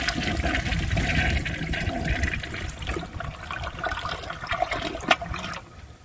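A 1995 Procemex toilet flushes, its bowl rinse rushing and gurgling loudly at first, then tapering into swirling water and trickling refill.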